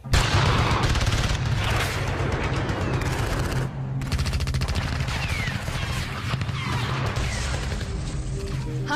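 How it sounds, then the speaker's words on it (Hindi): Shelling and gunfire at the Line of Control in Kashmir: a dense, loud barrage of rapid shots and crashing blasts that continues throughout, with a brief dip midway and some faint voices underneath. "अभी इस वक्त जो है शेलिंग शुरू फिर हो गई है"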